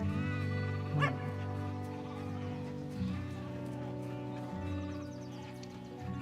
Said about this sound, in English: Gotta herd those sheep.